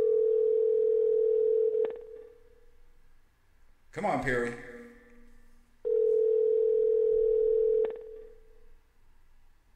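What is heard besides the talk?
phone ringing on an outgoing call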